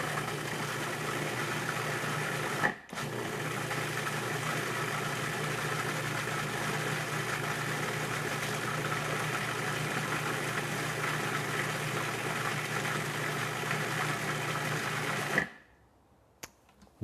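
A food processor whirls pesto made with pine nuts and roasted garlic, a steady, loud motor drone running continuously with one brief pause early on before stopping near the end.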